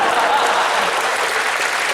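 Dense, continuous crowd applause fills a stand-up comedy show in Aceh, loud and even throughout the short moment with no break.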